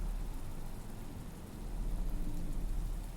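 Rainfall in the video game Excavation of Hobs Barrow, a constant close hiss over a low rumble that holds steady and swells slightly, without any speech.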